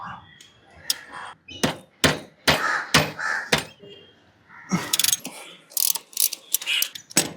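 A ratchet with a 70 socket loosens the rear axle nut on a Hero Honda CD100 motorcycle. Sharp, rapid ratcheting clicks come close up in uneven bursts, with short pauses between strokes and no talk over them.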